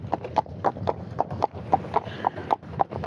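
Horse hooves clip-clop at a steady walk, a close, regular series of hoof strikes with faint background noise behind them.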